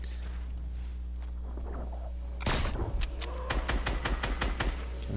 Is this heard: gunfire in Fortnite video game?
yes